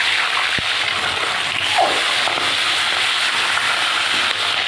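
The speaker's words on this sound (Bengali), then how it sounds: "এবার মাছগুলো ভেজে নেব" A loud, steady sizzle and crackle of hot oil with occasional sharp pops as rohu fish fries in a wok, continuous throughout and close by.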